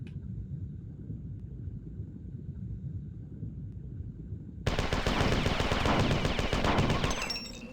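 Pistols in the video game Marathon 2: Durandal firing rapidly underwater, a steady stream of dense shots that starts abruptly after a muffled low rumble and runs for about three seconds, close and loud with no talking.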